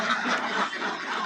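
Khaki Campbell ducks raised for eggs quack in a busy, continuous chatter, close and moderately loud, with no clear speech.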